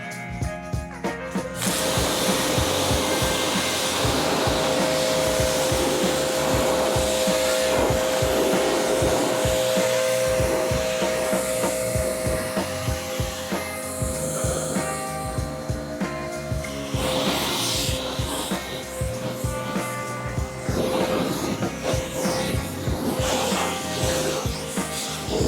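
A pressure washer sprays a car, a steady loud hissing rush of water held continuously at close range with slight shifts in tone as the spray moves across the surface.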